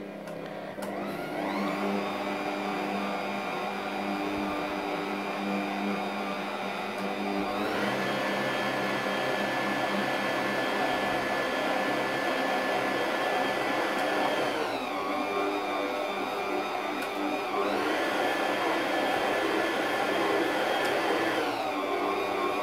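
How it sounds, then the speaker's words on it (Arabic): Dough kneading machine switched on and running, a steady mechanical whir of the motor that shifts pitch several times as it works, close and continuous with no talk. "غنسدو الماكينه ديالنا، غادي نشعلوها."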